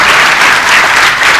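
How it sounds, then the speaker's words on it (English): Dense, steady applause from a student town hall audience for the panelists, a loud continuous wash of many hands clapping with no break. "let's give our panelists a round of applause"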